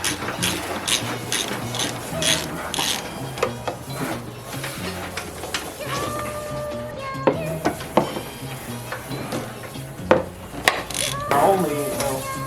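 A ratchet wrench loosens the air box bolts on a Honda S2000, giving steady runs of quick metallic clicks close up, with occasional knocks and shuffling between strokes.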